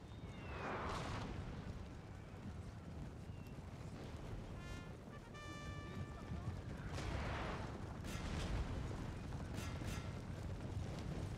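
Cannonball impacts in Total War: Napoleon, a continuous rumbling battle din of booming hits and crashing debris, with some whistling tones over the top, sustained throughout.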